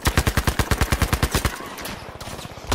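Rapid automatic gunfire in Battlefield V, a fast steady burst of loud, close shots for about a second and a half, then fading into quieter distant fire and battlefield noise.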